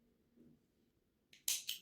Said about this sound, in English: I'm going to cut my thread here.